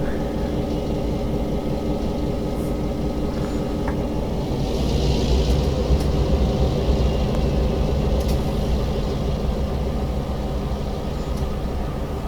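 Amtrak EMD E8 diesel locomotive engine in Train Simulator Classic, a steady, loud low rumble with layered droning tones that hold continuously, with faint clicks over the top.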